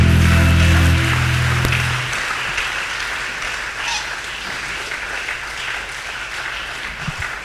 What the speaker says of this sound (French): Acclame bien, tu fais bien de continuer d'acclamer pour Jésus.